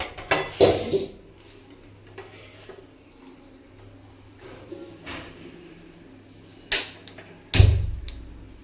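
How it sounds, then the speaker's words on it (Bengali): A metal wok is set down on a gas stove with a few sharp, ringing clanks, separated by quiet stretches and one last loud knock near the end. "এরপর গ্যাস অন করে তাতে একটা কড়াই বসিয়ে দিয়ে দেব 2 চামচ সর্ষের তেল।"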